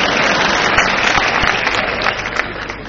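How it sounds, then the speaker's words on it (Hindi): A crowd at an Ujjain Hindi poetry gathering claps loudly and continuously for a poet on stage, a dense, sustained burst of applause throughout. "मंच के सबसे हैंडसम भूतपूर्व कुंवारे कवि के लिए जोरदार ताली बजाइए।"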